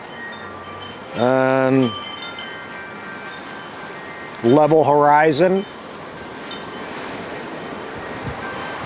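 Strong gusts of about 52 mph roar steadily across the microphone while a DJI Mavic 3 drone flies in them. Two short rising whines cut through the wind, and someone speaks briefly.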